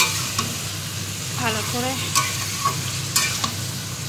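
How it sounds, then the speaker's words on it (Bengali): Goat meat stirred and fried in a pan, a steady sizzle with sharp spatula scrapes against the metal, close up, while a voice speaks briefly. "একটু কষিয়ে নেব"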